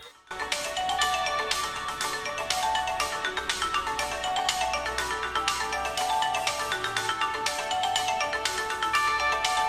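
A melodic ringtone plays continuously through the rear loudspeaker of a Xiaomi Redmi 3s Prime, bright and steady at an even loudness, with repeated chiming notes and no talking.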